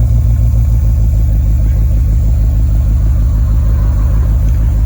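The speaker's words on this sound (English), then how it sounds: "You hear the exhaust sounds better?" Exhaust of a 2006 Dodge Charger R/T idling, a loud, close, steady low rumble with a pulsing beat that stays constant throughout, no voices.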